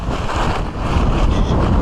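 Strong wind sweeps through a forest at night, a dense continuous roar with buffeting gusts rumbling against the microphone, loud and close throughout with no speech.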